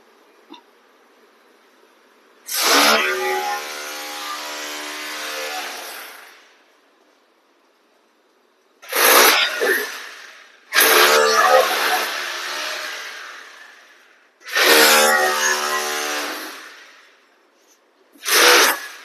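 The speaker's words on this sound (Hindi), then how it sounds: "घर पे हो रहा है रेनोवेशन का काम, तो बहुत तेज़ आवाज़ें आ रही हैं काम करने की" Home renovation work indoors produces loud, harsh bursts of power-tool noise, four long roaring stretches separated by quiet gaps, each starting abruptly and grinding on for several seconds.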